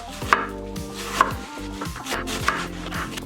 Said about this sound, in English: I'm just gonna give it a nice thin slice, thin as you can go with your knife.